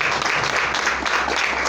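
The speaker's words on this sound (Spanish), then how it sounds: "Fuerte ese aplauso al Señor." A church congregation gives a hearty round of applause to the Lord, many hands clapping in a steady, dense wash that fills the whole moment without any speaking over it.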